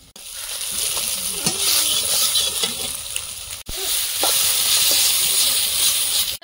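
Food frying in a pan, a continuous loud hiss and sizzle with occasional stirring clatter, a short break midway, then the sizzle resumes, no talking.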